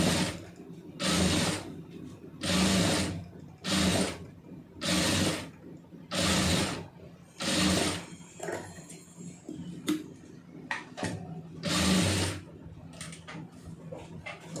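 A sewing machine stitches a puff sleeve in repeated bursts of rapid mechanical running, about eight runs separated by short pauses, with quieter handling and clicks in between.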